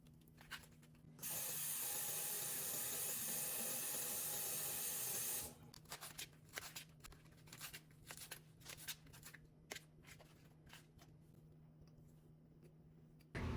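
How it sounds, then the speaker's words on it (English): Lettuce leaves rinsed under a running kitchen sink tap, a steady loud rush of water for about four seconds, then it cuts off into soft handling and rustling noises. "you're gonna get a couple leaves of lettuce and rinse it off in the sink"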